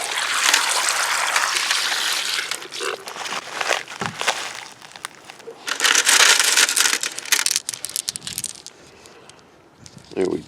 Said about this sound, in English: Rinse them off and take a look.